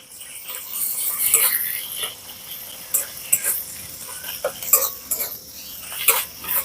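Onion, ginger-garlic paste and chopped green chillies are stirred and fried in a pan, giving soft scraping and clinking of a utensil with a light frying hiss, close and moderately loud, in irregular strokes.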